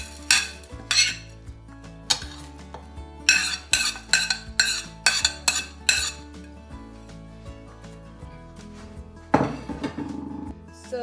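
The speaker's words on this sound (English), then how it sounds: "lastly we have our vegetables to add. Hopefully getting it all into the slow cooker." Vegetables for a beef and lentil curry are tipped into a slow cooker, a series of sharp clinks and clatters of a utensil on the pot, some in quick bursts, close with no voices.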